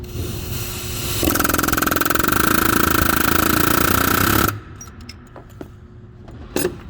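A loud, rapid mechanical hammering rattles for about three seconds while fitting a fan clutch on a Ford 6.7 Powerstroke diesel truck engine, then stops, followed by scattered metallic clinks and taps.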